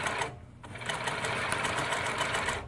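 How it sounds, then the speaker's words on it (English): A New Tech GC-20U83 zig zag lockstitch sewing machine stitches through spandex fabric, giving a steady, loud, close mechanical whir with rapid rhythmic needle ticking that runs almost continuously, dipping briefly near the start. "So I'm going to go ahead and start sewing."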